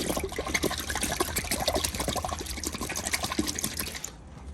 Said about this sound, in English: Let's pour about 50 mils, and I'm gonna put it into this bucket here.